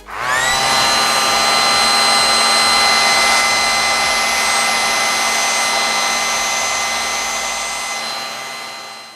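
An electric beard trimmer spins up and hums loudly and steadily close by as it is drawn back through beard hair, holding an even buzzing tone before slowly winding down at the end.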